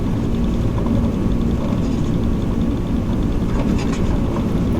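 A Caribou aircraft takes off in Microsoft Flight Simulator 2020, its engines giving a loud, steady, rumbling roar with a broad droning hum that holds constant throughout, unaccompanied by speech.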